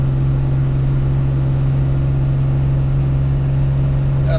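A Ram 2500 pickup with a 5.9 Cummins diesel and 48RE transmission labors up a hill in second gear while towing heavy, giving a loud, steady low drone with a strong hum that holds constant throughout.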